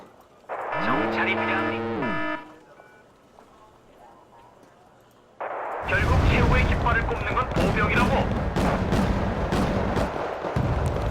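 Artillery fire in Wargame: Red Dragon: a sweeping, wavering tone first rises and then falls off into a quiet lull. Loud repeated thudding blasts and crackling impacts then follow close together through the rest of the stretch.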